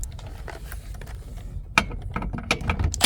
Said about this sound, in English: Let me see if I can get the 13 there with my socket.